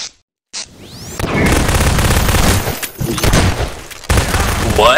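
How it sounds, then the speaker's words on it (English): Booming rocket blasts and gunfire in a Half-Life 2 Deathmatch match, a short silence and then a heavy, sustained clamour of explosions and shots with a fresh blast near the end, loud and close. "Rocket!"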